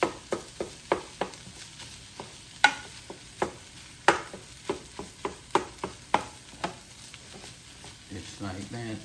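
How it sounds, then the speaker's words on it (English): A utensil chops and stirs turkey fried rice in a Power XL cooker, making a steady run of sharp, rhythmic taps and scrapes over a low sizzle, with a short burst of faint talk near the end. "Chop it up a little bit more."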